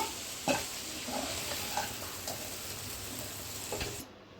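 Ivy gourd curry in Andhra-style pachi karam is stirred in a pan, soft spoon scrapes and taps over a low, steady sizzle, fairly quiet and close, ending abruptly.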